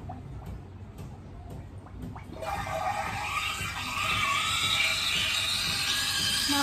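A De'Longhi Magnifica S fully automatic coffee machine, first a few faint clicks and low churning, then a loud steady hiss and gurgle of brewing that builds and holds to the end.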